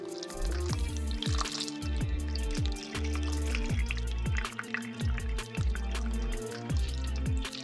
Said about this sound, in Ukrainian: І потихеньку заливаємо.